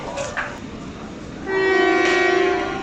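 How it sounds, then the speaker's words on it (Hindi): The Ravi Express passenger train departs Tandlianwala railway station in hot weather, a low rolling rumble joined halfway by a long, loud, steady horn blast with a harmonic tone close by. "ये तांदलिया वाला रेलवे स्टेशन को अलविदा करते हुए रावी एक्सप्रेस"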